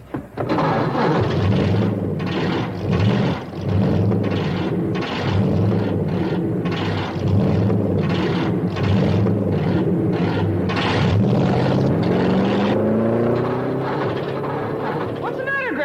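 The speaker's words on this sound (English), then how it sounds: "Gentlemen, start your engines." Old race car engines starting and revving at a starting line, a loud, continuous rumbling roar with rising and falling pitch sweeps that dominates throughout, with voices talking underneath.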